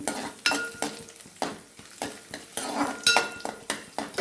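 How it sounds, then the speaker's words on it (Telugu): Raisins fry in hot ghee in a pan for a mung dal, coconut and carrot payasam, giving a soft sizzle broken by repeated scraping stirs and clinks of a spoon against the pan at a steady, close rhythm. "ఇప్పుడు నెయ్యి వేడెక్కింది కిస్మిస్లు వేసేసుకుందాం"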